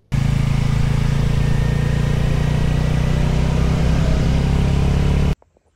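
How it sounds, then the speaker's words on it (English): A Royal Enfield Super Meteor 650 motorcycle engine gives a loud, steady, close-up drone that holds evenly for several seconds, then cuts off abruptly. "The first ride back on my Royal Enfield Super Meteor 650."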